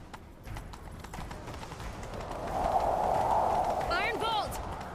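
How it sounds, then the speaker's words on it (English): Horse hooves clip-clop at a gallop in The Witcher 3, a steady rhythmic pounding under game music and rushing motion noise, with brief voices. "Grab a horse, we'll chase him down."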